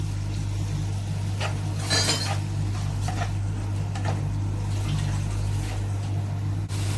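Marinated prawns coated with chilli and spice powders are stirred in a pan, with scattered metallic clinks and scrapes of a utensil against the pan over a steady low hum.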